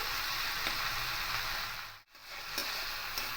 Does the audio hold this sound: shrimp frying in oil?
yes